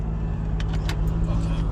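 A Jaguar F-type R runs after repairs, its engine holding a steady, close, deep rumble at idle with no changes in pitch.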